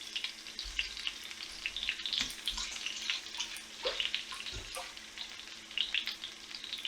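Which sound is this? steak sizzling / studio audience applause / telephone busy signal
steak sizzling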